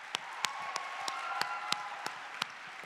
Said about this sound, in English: I want to just sort of give a huge round of applause to all the students who've worked so hard to put this program together.